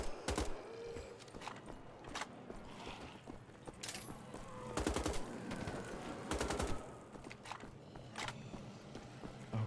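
Gunfire in Wolfenstein: The Old Blood as zombies and Nazis shoot, with several loud bursts of rapid automatic fire and sharp shots over a rumbling game background, with no talking.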